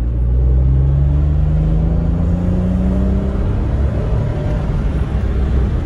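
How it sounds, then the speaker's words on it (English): A Honda Insight with a five-speed manual and an electric motor assist accelerates at full throttle on a straightaway, its engine note sweeping upward in pitch over a loud, constant road rumble heard from inside, with no talking. "I now have control of the throttle and I'm going to floor it"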